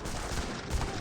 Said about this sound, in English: And the heavy cannon gains some great hits there.